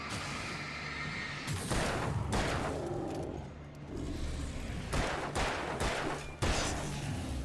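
Gunfire in the Alan Wake video game sounds as a series of loud bursts and sharp shots, clustered at several points over a dense, rumbling game background.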